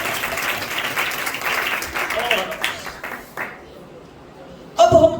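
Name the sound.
audience applause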